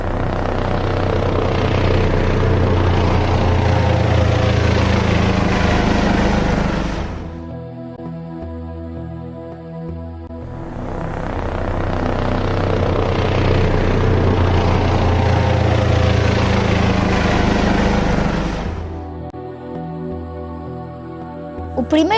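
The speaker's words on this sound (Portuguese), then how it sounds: "Maia, Ana, Bernardo e Lourenço decidiram alugar um helicóptero e visitar a África." Loud, steady rotor and engine roar of a rented helicopter in flight over Africa, dropping away twice into quieter gaps with faint background noise before swelling back.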